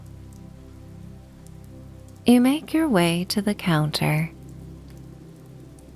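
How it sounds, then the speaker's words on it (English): Steady falling rain patters softly and evenly throughout on a cozy autumn night, under a calm voice speaking in the foreground. "and the falling rain."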